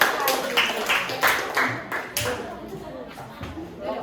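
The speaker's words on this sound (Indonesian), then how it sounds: "Tepuk tangan untuk kelompok 3" A classroom group claps for the third team, a brief burst of scattered hand claps that fades under chatter and voices.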